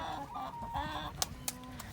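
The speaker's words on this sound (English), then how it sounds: "So these are our chickens" Chickens cluck continuously in a farm coop where eggs are being collected, with two sharp knocks cutting through the low flock murmur.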